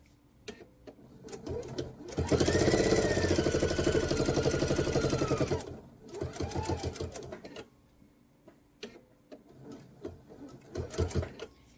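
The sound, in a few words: sewing machine stitching quilt binding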